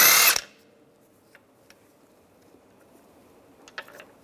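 A power tool with a 17mm socket spins a lug bolt off the rear wheel of a 2006-2009 Mercedes-Benz E350, a short loud whirring burst followed by quiet, scattered metallic clicks and handling noises.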